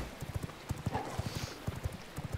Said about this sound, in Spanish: Mirad cómo corre el caballo.